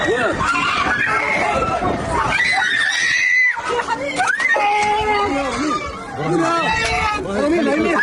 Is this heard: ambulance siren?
no